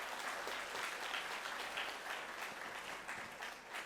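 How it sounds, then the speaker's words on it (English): Sustained applause from a convocation audience fills the hall, dense and steady clapping from many hands throughout, with no talk over it. "A big applaud for that, please"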